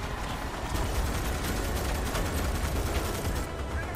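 Rapid sustained automatic fire from a big gun in Starship Troopers: Extermination, a dense continuous roar of shots at steady loud level, with a voice speaking over it.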